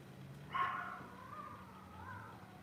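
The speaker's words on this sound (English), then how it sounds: "keep barking for a few minutes because she's not going to stop" A dog gives a single faint bark followed by a drawn-out whine that trails off, heard at a distance as if from behind a closed door in a quiet room.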